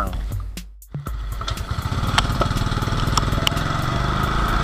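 Motorcycle engine idling roughly with a weak, uneven minor (idle), a steady close-up chugging throb that sputters and dips briefly near the start, then settles into a continuous pulsing rumble.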